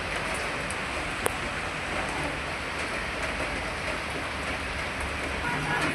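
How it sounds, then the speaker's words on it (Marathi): A sudden heavy downpour roars in a dense, unbroken wash of rain, loud and constant, with one sharp tick standing out. "अचानकच कसा मुसळधार पाऊस चालू झाला आहे"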